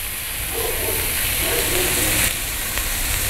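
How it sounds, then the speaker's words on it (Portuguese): Lentils and calabresa sausage hiss and sizzle steadily in a large pan while being stirred with a spatula, a close, continuous frying sound with no talk. "Agora eu vou mexer com a espátula, pra mim não quebrar"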